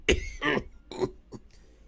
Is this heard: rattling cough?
yes